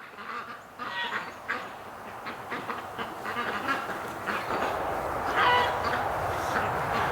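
Ducks quack and honk repeatedly outdoors in winter, a scattered, fairly near chorus of calls over a steady background with no speech.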